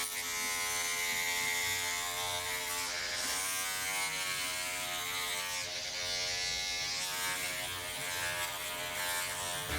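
Electric clippers buzz steadily and close up while shaving the nape and sides of a woman's head for an undercut at home, a continuous whine that shifts slightly in pitch as the blades move through hair.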